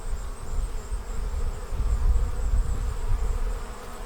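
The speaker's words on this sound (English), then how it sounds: "the bees in their new hive are in high productive mode. These foragers are heading out and bringing in largely nectar right now" Honey bees from a rehomed swarm forage around their new hive during a nectar flow, giving a steady, close, dense buzzing hum that swells slightly but never breaks, with no voices.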